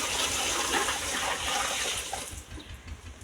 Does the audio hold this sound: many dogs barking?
no